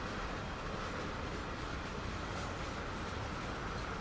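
A train rolls along steadily in a train simulator video game, a faint, continuous broadband rumble and hiss with no distinct clacks or voices.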